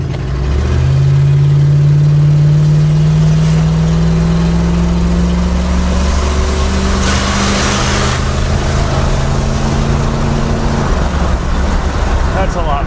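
A 1970s Lincoln luxury car's carbureted V8 revs up loudly, its pitch climbing steadily through gears as it accelerates hard, then settling into a strong cruising roar; close and dominant throughout, with no voices.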